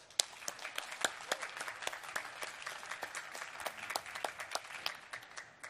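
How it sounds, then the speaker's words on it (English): Audience applause after a startup pitch competition finale, steady dense clapping from a crowd sustained throughout, with scattered sharper individual claps standing out. "Heather, Stefanie, Mark, big applause."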